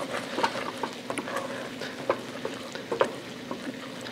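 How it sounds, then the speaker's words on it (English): Risotto stirred in a pan with the heat off, a soft close-up wet scraping and gentle bubbling sizzle with light irregular taps of the spoon, fairly quiet and without talk. "So as you stir it, it's kind of pulling away from the sides"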